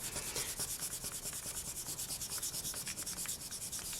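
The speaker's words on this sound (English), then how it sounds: "Just going to burnish that down a little bit just to even it out." A slice of polymer clay cane is burnished by hand, a soft, close, rhythmic rubbing of quick back-and-forth strokes repeating steadily throughout, with no talk.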